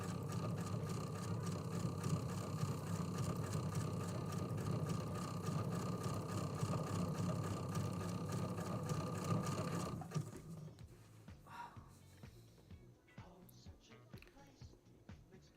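Sewing machine with a walking foot stitching a T-shirt table runner, running in a steady loud mechanical whir for about ten seconds before stopping, leaving quieter room noise and handling sounds.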